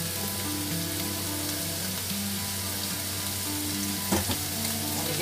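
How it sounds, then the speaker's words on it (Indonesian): Carrots being stirred into a frying pan while preparing stir-fried tofu, with a steady sizzle throughout and a brief louder scrape of the spatula near the end. "Ini kita aduk."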